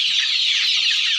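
A brood of young chicks cheeps in a dense, steady, high-pitched chorus throughout, with no voices.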